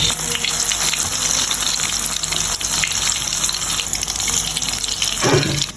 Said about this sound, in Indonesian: Sudah jadi adonannya lagi digoreng